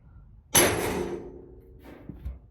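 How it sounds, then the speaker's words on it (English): A single sharp metallic smack rings out as a body hammer strikes a car fender's sheet metal, decaying over a second, followed by faint handling knocks. "we're gonna take our body hammer, we're gonna smack it"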